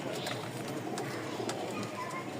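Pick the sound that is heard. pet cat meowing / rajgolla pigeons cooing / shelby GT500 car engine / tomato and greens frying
rajgolla pigeons cooing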